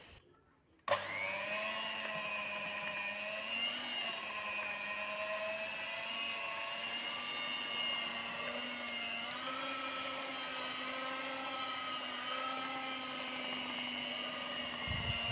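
A stand mixer kneading soft bread dough at its lowest speed gives a steady, close, whining motor hum with a bright tonal pitch that starts abruptly and runs without a break.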